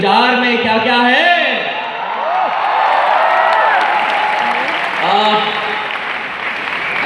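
Audience applause fills a convention hall, a loud sustained clatter of many clapping hands that swells, dips and rises again, with voices and faint cheers mixed into the crowd noise.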